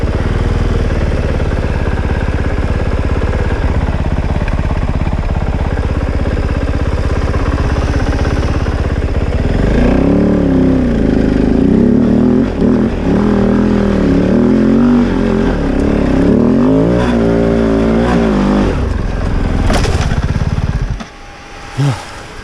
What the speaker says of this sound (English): Kind of does a little backfire, and you almost sometimes hear, I guess, the starter motor spin over backwards when it does it.